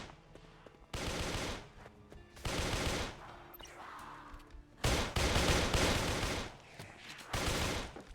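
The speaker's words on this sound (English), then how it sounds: "Oh, somebody else is shooting." Another player fires guns in a zombie survival game, producing several loud bursts of rapid automatic gunfire with short pauses between the volleys, heard from fairly close.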